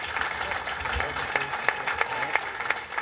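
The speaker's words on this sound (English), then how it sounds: "let's give these guys a big round of applause" Audience applause after guest speakers at a multifamily real estate talk, steady clapping of a modest crowd with a few sharper individual claps standing out over about three seconds.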